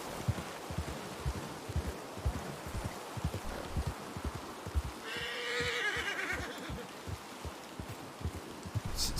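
In a Wild West roleplay video game, a horse gives a clear whinny midway while its hooves clip-clop in a steady rapid rhythm throughout, faint ambient outdoor sound beneath.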